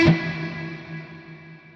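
A guitar through the PolyChrome DSP HyperRig on a Kiesel, with a loud reverb: a sharp plucked attack followed by a long, smooth wash of decaying tail that lingers alone for nearly two seconds.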